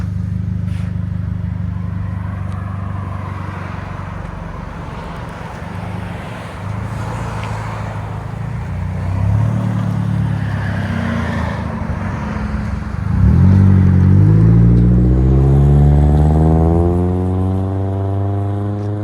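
A 2010 Nissan Altima S25 with a 2.5L four-cylinder and an Evil Energy resonator idles with a steady low drone, then revs up around the middle and climbs in a loud, smooth rise before settling back.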